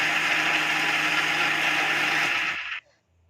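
An electric mixer grinder whirs loudly and steadily while grinding a paste for madali, a dense continuous motor roar that winds down and cuts off near the end.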